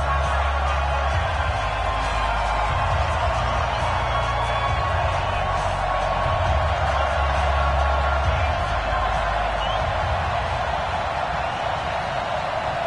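Sold-out stadium crowd in an EA Sports football game, the hometown Redskins facing the Chicago Bears: a constant, dense roar of cheering that fills the background while a commentator talks over it.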